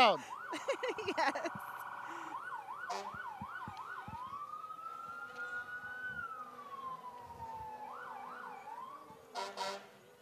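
A Tahlequah Fire Department fire truck passes in a Christmas parade, its electronic siren cycling through rapid yelps and then a long rising and falling wail. It is loud and close, with horn blasts at the start and end.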